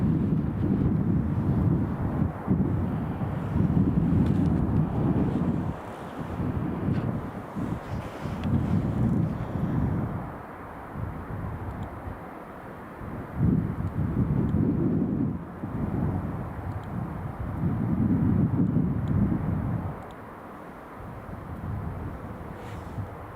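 An airplane at Edinburgh Airport rumbles in a steady low roar that swells and fades in broad waves, with wind buffeting the microphone throughout.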